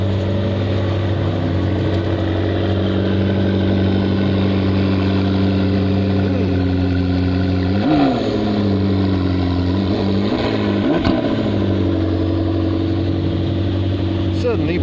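A classic McLaren road car idles steadily from behind at a hillclimb venue, a low, even engine note with a couple of brief blips of revs partway through, close and continuous with no talk.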